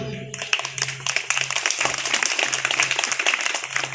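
A lecture audience bursts into clapping, a bright, busy patter of many hands that swells and holds, with a low steady hum running beneath it.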